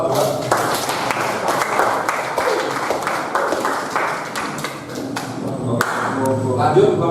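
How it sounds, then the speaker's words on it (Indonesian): A group in a CNC turning programming training class gives a round of clapping, a steady spatter of hands with some louder individual claps standing out, close by, with a few voices mixed in. "Tepuk tangan Bapak"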